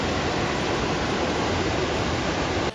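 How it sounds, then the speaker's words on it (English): A wide waterfall at Furong town in China roars as a dense, steady rush of falling water, loud and unbroken from start to finish. "we looked back on the wide waterfall which makes the town famous"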